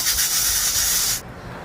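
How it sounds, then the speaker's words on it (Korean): A cooking pot vents steam loudly after cooking, with chicken and mung beans inside. A strong, steady hiss runs for about a second and then cuts off sharply, leaving quiet room tone. "그래서 이걸 꺼서 증기를 좀 빼줄게요"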